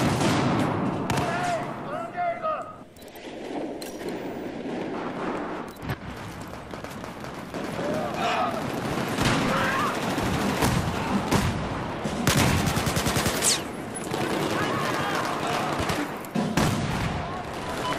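Rapid gunfire crackles through a Battlefield 4 beta match on the Siege of Shanghai map, with dense bursts of shots and explosions layered continuously over a noisy combat backdrop.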